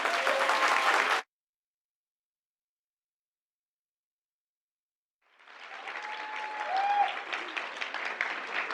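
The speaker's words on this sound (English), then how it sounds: "let's welcome our panelists with a big round of applause" Audience applause welcomes panelists at an on-stage conversation event: a short burst of clapping stops abruptly, then after a silent gap a second round of applause builds and holds steady, full and close.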